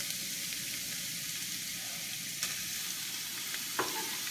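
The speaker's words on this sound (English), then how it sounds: "I'm going to put a little bit of olive oil in a pan, and I'm going to fry up those onions" Onions frying in olive oil in a pan on a stove, a steady close sizzle running throughout with a couple of brief sharper crackles near the end.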